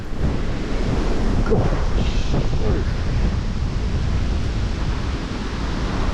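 Strong wind roars steadily past the microphone beside water where big branches are being blown in, a loud continuous rushing blast that stays heavy throughout with no pause.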